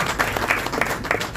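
A crowd at a political public meeting bursts into applause, a brief, close, dense patter of many hands clapping at an even level throughout.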